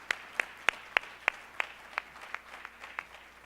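An audience at an education summit claps for a panel, giving a thin, rhythmic run of sharp distinct claps from a small group that gradually softens and fades.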